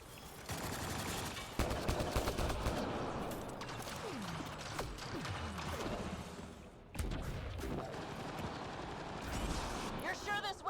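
Turret gunfire and combat rumble through a sci-fi firefight in Mass Effect Andromeda, dense bursts of shots and crashes at moderate level, with a brief drop and then renewed firing, voices talking over parts of it.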